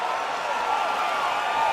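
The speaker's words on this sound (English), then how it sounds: "the crowd's appreciating the action here" A UFC 6 arena crowd roars and applauds in a steady, dense wash of cheering that holds at an even level throughout, with no single voice standing out.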